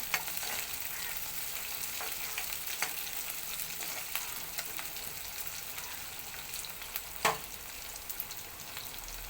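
Sliced onions with spices and crushed garlic sautéing for a brinjal and chana dal curry: a steady, close frying hiss with scattered stirring scrapes and one sharper clatter near the end, no voices.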